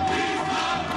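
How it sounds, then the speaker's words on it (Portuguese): Football supporters cheer from the stadium stands at a Mato Grosso state championship match, a steady, loud crowd roar filling the whole second with no gaps. "E a torcida do Misto agora empolgadíssima nas arquibancadas do estádio do Trinha."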